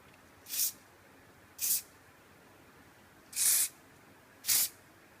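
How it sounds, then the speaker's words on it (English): Hairspray from an aerosol can hisses in four short bursts onto a child's hair styled in a ponytail, two quick sprays followed by two slightly longer ones, close and clear against a quiet room. "we'll just use the hairspray at the end to make it nice and neat around the ponytail"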